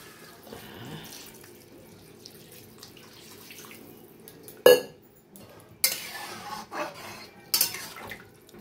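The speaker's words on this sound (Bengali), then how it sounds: "এবার জল ঢেলে দেবো।" Water poured into a pot of thin ridge gourd and pointed gourd curry after the tomatoes have cooked down; a soft background clatter, then several short splashing pours with clinks of the vessel, close by.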